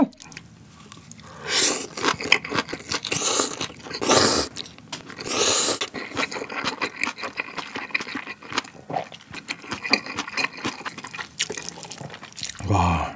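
Close-up crunchy chewing of spicy cold chewy noodles (jjolmyeon) mixed with bean sprouts and cabbage, with repeated crisp bites and wet slurping bursts in a steady eating rhythm, no talking.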